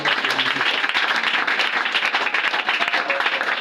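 A church congregation applauding during a deliverance prayer service: dense, steady clapping that fills the whole stretch at close range, with voices mixed into the din.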